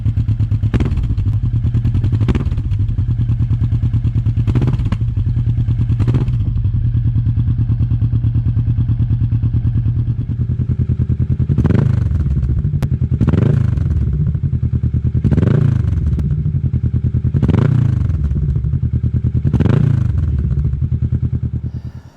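Kawasaki Vulcan motorcycle with an Arrow Rebel exhaust idling close by, a steady low burble punctuated by several sharp throttle blips, the revs rising and falling in a regular series.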